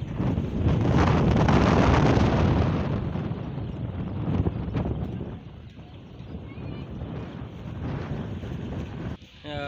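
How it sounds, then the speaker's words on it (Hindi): Strong storm wind gusts roar and buffet the microphone ahead of heavy rain in Chattroh, loudest in the first few seconds and then easing into a steady rushing blow. "बाकी आंधी भी काफ़ी तेज़ है"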